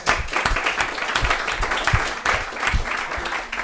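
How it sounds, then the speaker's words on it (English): Audience applause at a panel discussion session, a dense, sustained burst of many hands clapping that fills the room at steady loudness throughout. "I think that actually deserves an applause."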